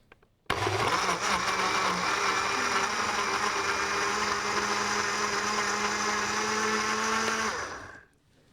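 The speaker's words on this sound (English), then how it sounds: "I'm using the blender." A blender whirs loudly and steadily for about seven seconds making pudding, starting abruptly and then winding down to silence.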